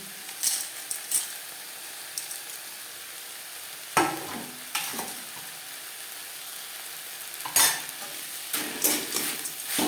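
Fried lentil dumplings stirred together with pea greens in a pan, a soft continuous sizzle broken by occasional close scrapes and knocks of the spatula against the pan.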